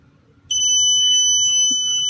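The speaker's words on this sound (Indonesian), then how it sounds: "Buzzer berbunyi." After a quiet low hum, a fingerprint access system's access-denied buzzer starts, a loud, piercing electronic tone held steady and shrill, close by.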